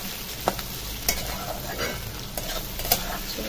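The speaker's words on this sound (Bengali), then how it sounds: "তো পেঁয়াজের সাথে আলুটাও ভেজে নিচ্ছি। তো এখন চিকেনটাও দিয়ে দেবো।" Onion, potato and chicken frying together on a clay stove, a steady close sizzle broken by a few sharp scrapes and knocks of stirring.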